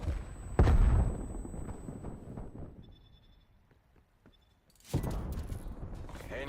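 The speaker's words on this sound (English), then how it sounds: "Throwing frag." A frag grenade detonates in Call of Duty: Black Ops Cold War with a sharp, booming blast and a short rumbling tail. A second burst of heavy noise follows a few seconds later.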